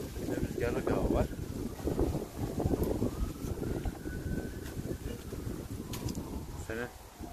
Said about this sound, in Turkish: Rüzgarlık hava var.